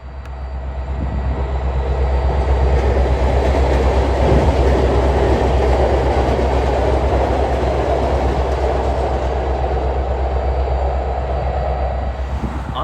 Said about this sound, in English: this Norfolk Southern GP38 high hood unit waits patiently for clearance into the yard